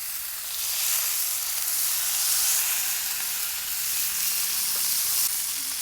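Oil poured over whole eggplants on a hot griddle sets off a continuous close sizzle, a dense hiss that swells slightly midway and carries on steadily without talk.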